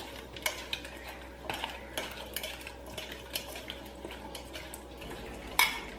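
Fish pieces being mixed with salt and lemon juice in a bowl for Kerala fish molee, soft wet squelching and light clinks of utensil on dish, quiet and close, ending in a louder knock.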